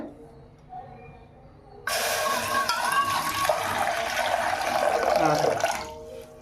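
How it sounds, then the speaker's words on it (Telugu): Water is poured into a pot on a stove to make ragi mudda, a sudden strong splashing gush that starts after a quiet moment and runs steadily for about four seconds before cutting off. "నీళ్ళు పోయమ్మా."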